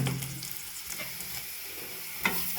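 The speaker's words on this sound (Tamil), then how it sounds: "இப்போ நல்லா வதக்கிக்கிறோம் வெங்காயம் பார்த்திங்கன்னா பொன்னிறமாக வர அளவுக்கு வதக்கி விட்டுக்குங்க" Onions sauté with mustard seeds, chillies and curry leaves in a pan, a soft continuous sizzle with a few faint stirring scrapes and a sharper clatter near the end, no one speaking.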